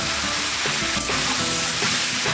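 Vegetables and a large potato sizzle steadily as they are sautéed in a pan for Udupi-style sambar, a continuous loud frying hiss with occasional stirring scrapes and no voices.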